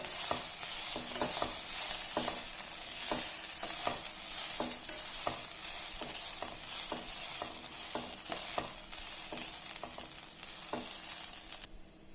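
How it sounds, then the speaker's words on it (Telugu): Grated coconut with green chillies frying in a pan, a steady close sizzle with frequent short stirring scrapes and clinks throughout, no voices. "కొబ్బరి తురుము వేసి కొంచెం సేపు వేగనివ్వాలి"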